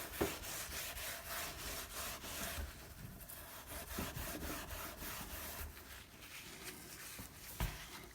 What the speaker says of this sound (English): So we give it a wet scrub, and that all does its thing.